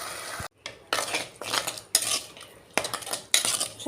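Greens being stirred in a metal pan with a spoon: a series of sharp, close clanking and scraping strokes of cutlery against the pan at an uneven pace, with a brief silent gap near the start and no voices.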